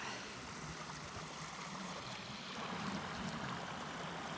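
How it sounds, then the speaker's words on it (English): A moorland brook in Yorkshire flows steadily, its continuous close rushing and trickling water filling the whole stretch at an even level with no talk over it. "So we've got a beautiful stream here. This brook running right through."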